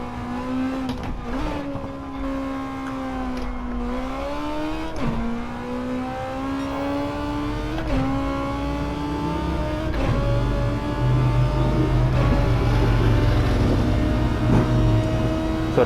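A race car engine in Gran Turismo 7, played on a sim rig, revs up through rising whines broken by several distinct gear shifts where the pitch drops sharply, loud and steady with no talking.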